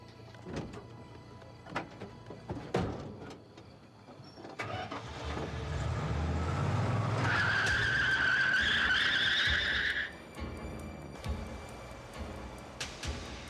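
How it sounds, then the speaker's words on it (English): A car in a TV crime reenactment starts up, revs hard and tears away with a loud tire squeal and rising engine roar, then the noise cuts off abruptly, following scattered clicks and knocks. "sped off in the opposite direction of his house, so the man could not follow him home"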